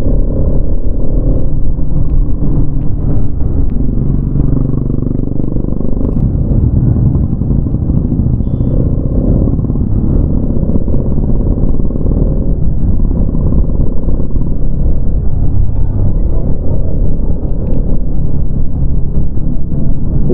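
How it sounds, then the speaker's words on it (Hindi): A BMW S1000 RR motorcycle rides past during a morning group ride meet-up in Nagpur, its engine rumble steady and loud throughout, blended with other traffic noise. "देखिए गाइस अभी पीछे से आएंगे S1000 RR"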